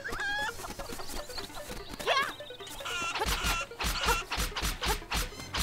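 A chicken in The Legend of Zelda: Link's Awakening (2019, Nintendo Switch) clucks in quick, close bursts over rhythmic game music, with scratchy pecking sounds between the calls.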